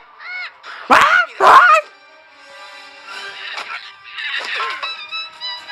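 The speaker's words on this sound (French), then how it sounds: "Oh, un oiseau." Cartoon bird cawing in an animated short, two loud harsh calls close together, followed by softer squawks and chirps.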